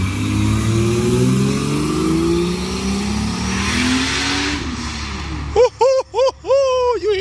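Built Toyota GS300 with a turbocharged 2JZ-GTE, cast manifold and BorgWarner turbo, revving loudly up and settling back for about five seconds, then cut off by a short burst of close, excited talk.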